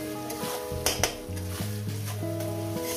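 Onion frying in a pan for a katla fish curry (katla kosha) gives a steady sizzle with a few scraping clinks. Sustained tonal hums run through it, and there are no spoken words.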